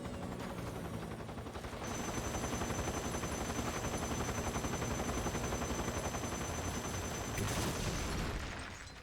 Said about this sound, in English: Okay, something's shooting at me.